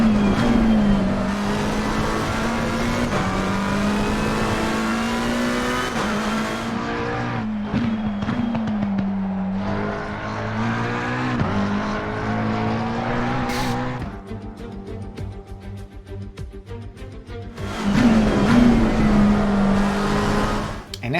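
McLaren 720S GT3 race car lapping Zandvoort in Assetto Corsa Competizione: a loud, steady engine drone with pitch sweeping up and down through gear changes, dropping under braking into a corner, then rising again as it accelerates out.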